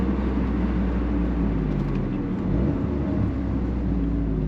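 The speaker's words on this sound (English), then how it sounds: "That's how the car sounds with the stock intake." A Toyota GR Corolla engine with its stock intake runs steadily, a low, continuous rumble with a slight dip midway, heard close and without voices.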